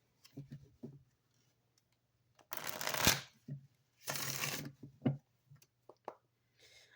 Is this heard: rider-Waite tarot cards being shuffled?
yes